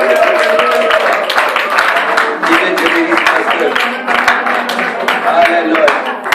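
Congregation clapping at a Sunday church service in Brussels, steady rhythmic hand claps throughout, loud and close, mixed with singing and voices.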